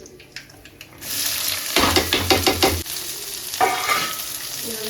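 Curry leaves, onion and chilli hit hot oil for egg rice: a faint clatter, then a loud sizzle bursts in and holds steady, with a series of rhythmic scraping stirs and a later flare of frying.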